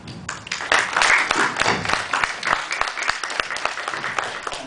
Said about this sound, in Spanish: para quien pido un fuerte y caluroso aplauso